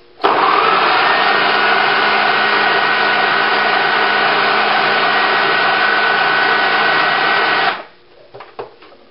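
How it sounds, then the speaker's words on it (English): A food processor runs steadily and loudly for about seven and a half seconds, a constant whirring motor drone that cuts off abruptly, followed by a few faint clicks. "when you're using a food processor or anything else"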